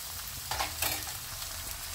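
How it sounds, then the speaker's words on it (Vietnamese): Fish cake ingredients stir-fried in a pan for Quy Nhon-style fish noodle soup, giving a steady close sizzle and frying hiss with a couple of brief louder stirring scrapes. "Mình xào lên."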